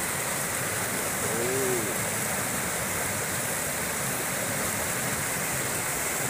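River water rushes steadily near a dam, a dense broadband roar of flowing water, loud and continuous throughout, with a brief faint voice-like sound early on.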